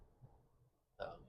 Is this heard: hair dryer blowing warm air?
no